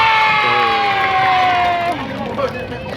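A crowd cheers and shouts at an award announcement for a scouting competition, a loud babble of voices with rising and falling calls that settles near the end.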